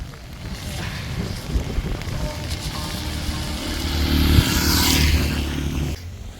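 Strong monsoon wind buffets a microphone on a ride near Panshet Dam, a constant roaring rush that swells louder toward the end, with a passing vehicle-like swish and engine rumble underneath.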